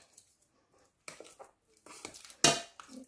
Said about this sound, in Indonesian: ini boleh kita hancurkan dengan garpu ya